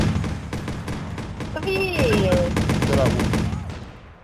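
Gunfire from the video game Watch Dogs rattles in rapid bursts throughout, mixed with thuds and other game sounds, while a voice briefly speaks over it.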